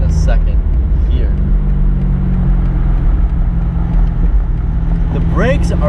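A 2020 BMW M850i Convertible accelerates with a loud, steady engine drone running throughout, with a voice talking over the engine sound.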